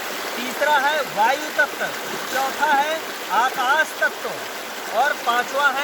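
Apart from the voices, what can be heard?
babbling stream water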